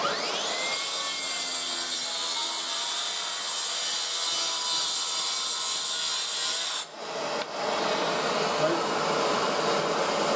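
A Makita track plunge saw cuts along a new splinter guard, whining loudly and steadily as the blade rips through wood, with a brief dip near the end before the cutting noise resumes.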